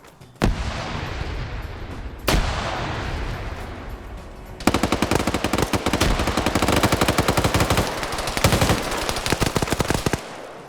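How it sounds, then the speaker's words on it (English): Sustained gunfire from the Arma 3 military shooter during a PvP tournament match: two sharp single shots, then long rapid automatic bursts of machine-gun fire, loud and continuous with no talk. "Dark Lord firing down a trick shot."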